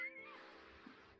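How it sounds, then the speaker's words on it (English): A house cat gives one short, faint meow indoors, and a soft voice is heard around it. "The cat has apparently followed you into the house."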